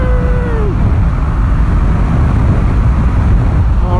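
A 2020 Yamaha Tracer 700 motorcycle accelerates onto a highway, its engine tone briefly rising and then falling away beneath a steady, loud roar of wind and road noise that lasts throughout.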